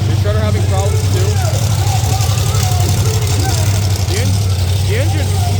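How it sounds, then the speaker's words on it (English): Monster truck Shredder's engine runs hot and rough at a Renegade Monster Trucks show in Frederick, Maryland, a loud steady low rumble throughout, with crowd noise and people talking over it. "The engine's heating up."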